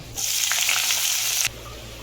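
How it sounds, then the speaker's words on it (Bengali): Chopped onion dropped into hot oil with dried red chilli and bay leaf for a Bengali shrimp and greens dish, erupting in a sudden loud sizzle that holds for over a second, then cuts back to a quiet background. "একটা ছোট পেঁয়াজ কুচিয়ে রেখেছিলাম, ওটা দিয়ে দিচ্ছি"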